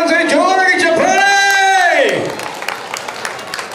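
An audience at a school silver jubilee alumni gathering, during a points game, gives a loud drawn-out shout and cheer, then settles into scattered applause and crowd noise.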